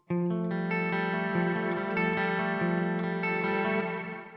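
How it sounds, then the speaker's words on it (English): A sustained, distorted guitar chord run through a Quad Cortex reverb whose mix is modulated by a sine wave, swelling gently in and out as the tone holds steady and loud, then tapers at the end. "If I do the sine wave, it's just going to come in and out. The mix is just going to come in and out."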